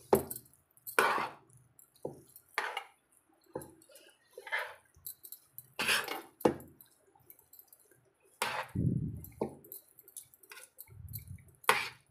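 Pulihora, a tamarind rice dish, being mixed by hand in a pot, giving soft wet squishes and clicks in separate bursts with quiet gaps between them.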